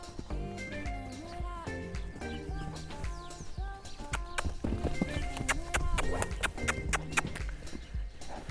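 A horse lopes around a round pen, its hoofbeats thudding in a quick, uneven rhythm at moderate distance, with a faint voice in the background.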